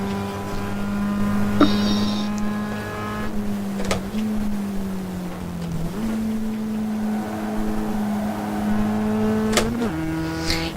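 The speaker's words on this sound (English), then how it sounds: "It's nice to be coming onto the one part of the track where my Camaro is fastest. The straightaways." A Camaro race car in a racing video game roars steadily at high revs along the straightaway at Spa, its engine tone climbing between gear shifts.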